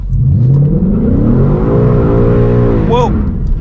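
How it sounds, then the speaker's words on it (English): A car launches hard from a dead stop on street tires over a regular road surface on a chilly afternoon, its engine roaring loud and close as revs climb through the gears, with a brief exclamation near the end. "Let's do 0 to 60 and do automatic start."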